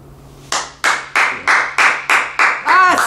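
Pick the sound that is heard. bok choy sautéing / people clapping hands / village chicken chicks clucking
people clapping hands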